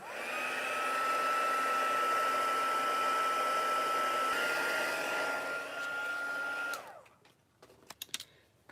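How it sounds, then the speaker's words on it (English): A craft heat tool blows hot air in a steady, close whine with a faint high tone for about seven seconds, then cuts off, leaving a few small clicks and taps. "let me grab my heat tool real quick"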